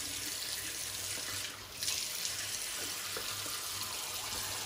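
A bathroom tap runs steadily into a sink while the face is wetted before shaving, a constant close splashing hiss that dips briefly once.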